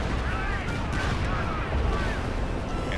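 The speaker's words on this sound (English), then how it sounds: "Calliope's firing in here" Calliope rocket artillery firing in the Company of Heroes 2 video game, a dense, continuous rumbling barrage of overlapping blasts that stays loud throughout the few seconds.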